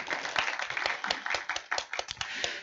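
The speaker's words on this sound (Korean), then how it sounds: "반수경 부원장님을 위해서 박수 한번 쳐주시면 감사하겠습니다." Scattered audience clapping at an AI training program's final project presentation event, a sparse, uneven patter of individual claps from a small crowd, moderately close and fading out after under three seconds.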